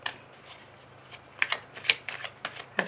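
Tarot cards being shuffled close up, a run of crisp riffling flutters and slaps that grow louder and denser toward the end, with no voices.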